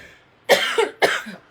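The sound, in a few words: cough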